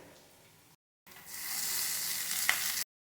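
Ginger, onion and garlic paste frying in a pan for a chicken dish: a steady bright sizzle that swells after a short silent gap, with a single sharp pop near the end, close and fairly loud with no voices.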